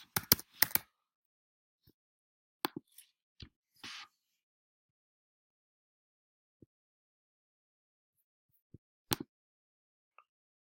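Scattered keystrokes on a computer keyboard, a few quick clusters of clicks and isolated taps separated by long silent gaps, close and fairly quiet.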